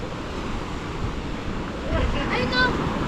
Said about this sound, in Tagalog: Ito tayo sa tabing dagat.